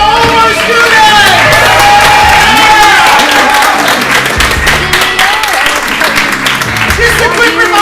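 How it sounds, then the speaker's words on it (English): A comedy showcase audience gives loud, sustained applause and cheering for the sketch, stand-up and improv students, steady dense clapping with crowd noise and some voices mixed in throughout. "One more round of applause for all of our students"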